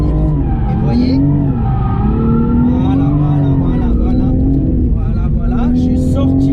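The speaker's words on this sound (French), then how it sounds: "Je mets un coup de gaz." Toyota GR Supra drifting through a corner under throttle, engine note rising and falling loudly and continuously with tire noise, while someone talks over it throughout.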